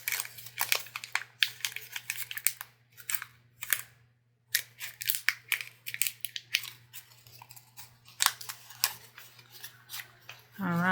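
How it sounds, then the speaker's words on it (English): A sheet of vellum being crumpled by hand, with crisp crinkling bursts in separate handfuls and brief pauses between them, close to the listener, under a low steady hum. "So I'm just going to crumple this up"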